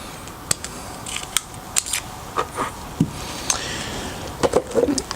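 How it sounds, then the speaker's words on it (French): Sharp plastic and metal clicks and snaps as the blade is released, slid out and swapped on a Rali Shark multi-function wood chisel, a quick irregular series of close handling sounds with no talk. "on appuie ici, on recule et on peut changer comme ça facilement de lame"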